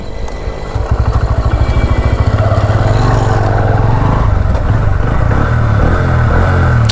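A Honda CB Hornet 125 motorcycle starting close by, then settling into a loud, even, rapidly thumping idle that holds steady for several seconds.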